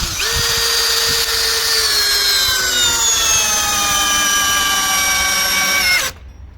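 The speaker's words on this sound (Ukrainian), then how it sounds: "Давайте спробуємо закрутити глухар 8 на 100 в ось такий брусочок." Grosser GCD 520Q cordless screwdriver driving an 8x100 lag screw into a wooden block, a steady whining motor drone that slowly drops in pitch as load builds for about six seconds, then stops abruptly.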